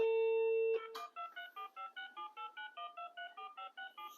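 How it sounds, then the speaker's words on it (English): Corded analog landline phone with a big LCD display: a steady dial tone cuts off, then a rapid run of about fourteen redial DTMF tone pairs beeps in an even rhythm, close and clear, with no voices. "You redial the last dialed number."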